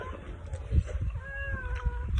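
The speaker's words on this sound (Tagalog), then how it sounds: "Ada nakabulos na pusa." A cat gives a short meow, a single drawn-out call rising and falling over about a second amid low background rumble and faint rustling.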